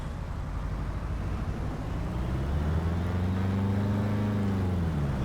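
A Piper PA-18 Super Cub's engine in Flight Sim World throttles up from a steady idle into a louder, rising propeller drone, the pitch climbing smoothly and holding strong near and continuous.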